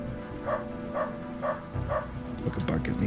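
A Doberman in the video game Underrail barks in a steady series of four or five evenly spaced woofs, moderately loud, with a voice talking over the final moments.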